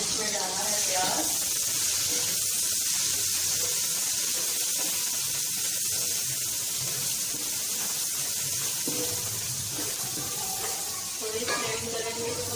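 Chopped onion sizzles steadily in hot ghee in a pan, a continuous broadband frying hiss with occasional stirring clinks, while a voice talks over it.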